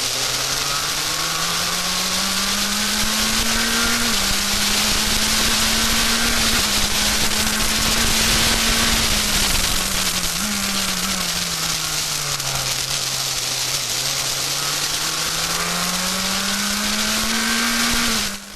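Race car engines roar loud and close at the start of a street race in Toronto, one engine's pitch rising and falling steadily through gear changes over a constant high-pitched whine, with no voices.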